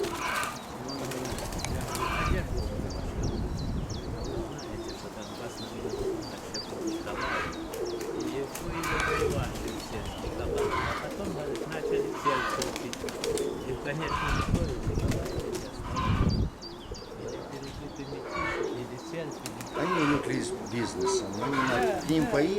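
Pigeons cooing repeatedly in soft, rhythmic bursts, fairly close, amid background chatter and occasional shuffling noises.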